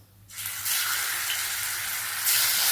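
Anchovies frying in hot oil in a pan, a loud continuous sizzle that starts abruptly and swells near the end, with no speech.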